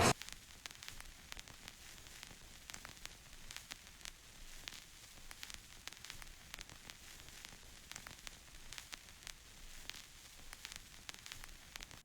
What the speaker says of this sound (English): This is another mostly radio static clip